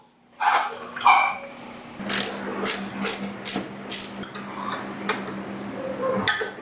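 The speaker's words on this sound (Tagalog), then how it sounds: "Torque wrench, ayun." A ratcheting wrench clicks in quick, close mechanical ticks while working on the header bolts of a 2024 Honda CB650R, in short bursts with brief pauses between them.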